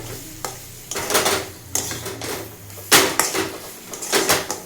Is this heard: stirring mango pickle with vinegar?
yes